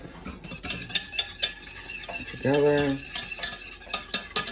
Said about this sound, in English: We're going to make the custard by whisking 4 egg yolks